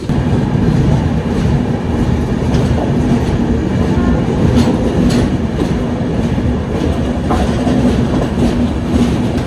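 The Island Express train passes close by on the way toward Bengaluru, a loud continuous roar of wheels and carriages with rhythmic clickety-clack throughout.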